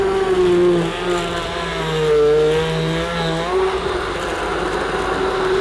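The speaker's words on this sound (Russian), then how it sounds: "И все это измельчаем погружным блендером." A loud motorized whir rises and falls in pitch as an immersion blender purées tomatoes with basil, steady and close with no talking.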